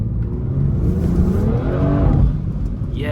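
A 500hp BMW held in second gear while sliding through a corner, its engine droning hard and then swelling into a rising rev with tyre noise, loud and continuous throughout, no talking.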